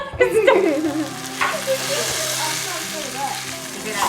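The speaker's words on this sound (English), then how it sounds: "hear that sizzle?" Meat seasoned with garlic, onion powder, salt, paprika and chili powder sizzling and crackling in a hot pan with some stirring, steady frying hiss throughout while people talk nearby.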